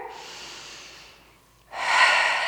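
Close breathing during a Pilates mat stretch: a soft outward breath fades, then a big, deep inhale rushes in loudly through the nose and mouth, with no talk over it.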